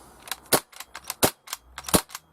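An Umarex H&K MP5K CO2 6mm airsoft gun fires a string of sharp, snappy pops at irregular intervals, with a few louder cracks standing out, close up and with no talking.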